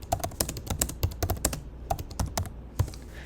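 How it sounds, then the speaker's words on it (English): Rapid, irregular clicking of computer keyboard keys as two people type at once, a close, dry patter with short pauses and no voices. "So now you'll see I'm typing at the top and Bella is typing at the bottom"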